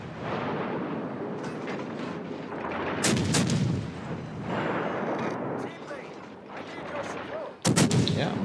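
Naval video game gunfire booms out in two heavy blasts, one around the midpoint and a sharper one near the end, set against a constant dense rumble of battle noise.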